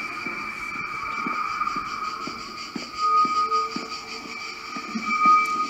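A train ride in the horror game The Ghost Train by Chilla's Art, with cicadas around: a steady rolling rumble and sustained tones, punctuated by regular rhythmic clacks, continuous and moderately loud, with no talk.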